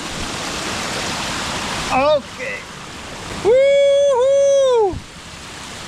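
Running water from a waterfall in Pahamsyiem, Meghalaya, rushes steadily, a loud close hiss that lasts throughout, while a person speaks briefly and holds a long vocal sound over it.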